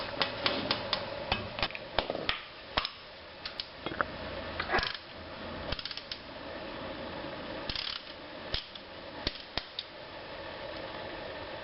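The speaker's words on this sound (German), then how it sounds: "Deswegen gleich der Schlagschrauber." Pneumatic impact wrench hammering at a rusted brake screw on a VW Passat, a dense run of sharp rattling blows with brief pauses, loud and close, with no talk.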